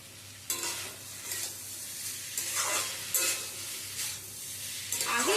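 Vegetables frying in oil and being stirred in a pan for a Bengali chorchori, with steady sizzling and repeated scraping strokes of a spatula at close range, no voices.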